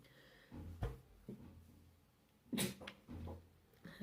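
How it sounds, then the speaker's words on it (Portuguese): A teacher giving an online biology lesson lets out a brief sneeze, fairly quiet and close, amid small handling noises and short vocal sounds. "Desculpa, espirrei."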